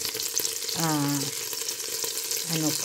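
Butter sizzles and spatters hard in a hot pan, a loud, continuous crackle, while someone speaks briefly over it.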